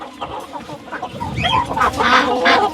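Turkeys scuffle at a poultry market in Sakarya, giving a quick run of overlapping squawks and clucking calls from several birds close by, rising toward the end.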